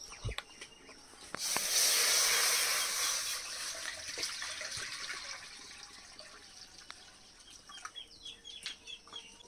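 Water poured into a wok over brinjal and potatoes for steaming in a Bengali home kitchen, a loud splashing pour lasting about two seconds near the start, then faint kitchen background with small clicks.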